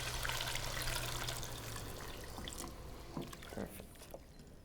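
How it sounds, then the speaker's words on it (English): Bouillon is poured slowly into a white sauce roux, giving a soft, continuous trickling and splashing close by that gradually thins out, with faint kitchen clatter and no talk. "And then slowly pour this into the white sauce or the roux."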